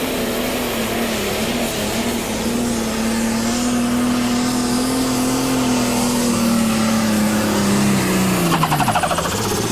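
Pro stock pulling tractor with a turbocharger, at a 1997 tractor pull in Bowling Green, Ohio, roars loud and steady for nearly ten seconds before its pitch sags and drops near the end.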